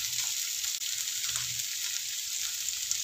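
Green chili and onions sauté in a hot pan, a steady close sizzle with light crackle that runs unbroken for a few seconds with no talk over it.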